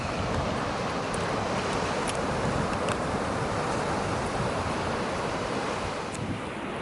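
Surf and wind roar steadily at a black sand beach in Iceland, a dense, continuous wash of breaking waves with gusty microphone buffeting and no voices.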